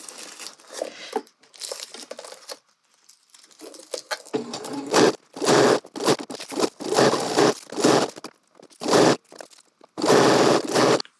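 Home sewing machine running bursts of straight stitching through dress fabric, pausing for the needle to be left down and the fabric pivoted, then continuing the seam; close, moderately loud whirring runs with short gaps and quieter handling between.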